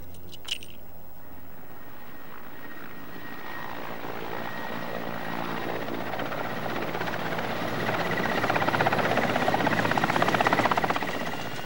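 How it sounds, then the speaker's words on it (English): A helicopter flies over snowy tiger country with a steady rotor and engine drone, loud and continuous, swelling toward the end as it draws nearer, with no voices. "Now they can only await the helicopter's return"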